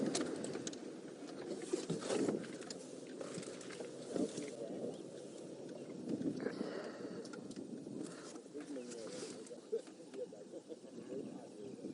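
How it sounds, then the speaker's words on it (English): Many wild birds call on and off around an open clearing on an African safari drive, with dove-like coos among the chatter, steady and moderately distant, while people speak quietly nearby. "There's still a lot of birds calling around us."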